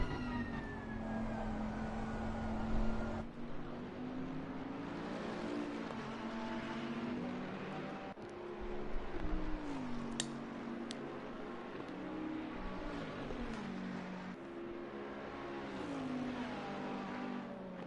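GT3 race cars lapping the Nürburgring in a racing video game, with engine notes climbing and falling through gear changes as several cars run together at a steady, fairly loud level for the whole stretch.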